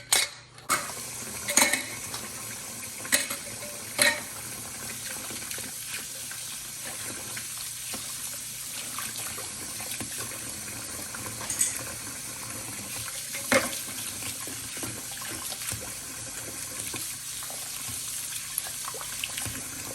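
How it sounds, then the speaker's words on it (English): Metal canning jar lids and bands are washed under a running tap while making strawberry jam, with a steady wash of water and scattered light metallic clinks and clatters, no talking. "my next step is to wash all these lids and bands"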